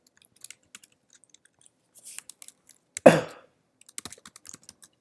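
Keyboard typing while writing code in a Leetcode contest, sparse soft clicks scattered through a quiet room with a brief louder rustle or throat noise midway.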